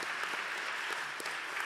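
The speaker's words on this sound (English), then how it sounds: "You can applaud for that." A church congregation applauding during a Sunday sermon, dense, even clapping at moderate level throughout, with no talk over it.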